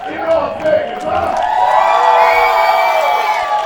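A wrestling crowd cheers, whoops and shouts for the wrestler Primo, a loud, sustained roar of many voices filling the arena with scattered higher-pitched yells throughout.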